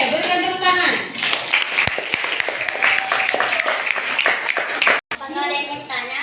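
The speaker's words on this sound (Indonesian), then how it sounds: "Oke, berikan tepuk tangan." Children clap together in a steady patter of applause in a junior high school class, mixed with excited young voices, fairly close and lively.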